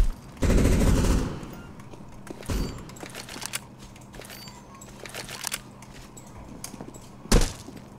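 Turret machine gun in the CS:GO Danger Zone battle royale mode fires a loud sustained burst, followed by scattered distant gunfire and a final sharp shot near the end.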